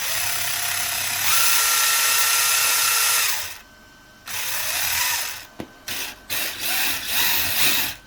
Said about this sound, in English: Motor runs, although that gearbox does sound absolutely atrocious.